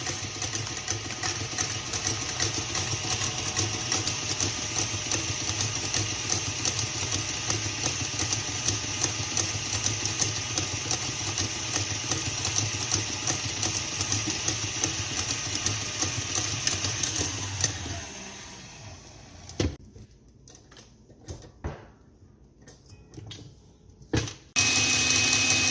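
A stand mixer with a whisk attachment whirs steadily while mixing keto dessert ingredients, a close, continuous motor drone that cuts off and gives way to scattered clatter and quiet.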